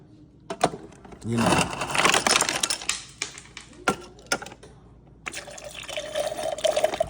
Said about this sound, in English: See how that's squirting out?